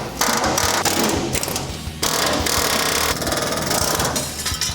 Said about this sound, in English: we're going to drill out the spot welds and get rid of the leftovers